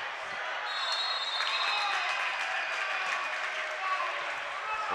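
A loud arena crowd cheering on both sides at a high school boys varsity basketball game in a gym, a dense, steady roar of voices with shouts and sneaker squeaks, close and sustained, with an announcer talking over it.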